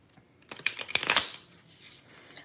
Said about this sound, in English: I'm going to shuffle them once more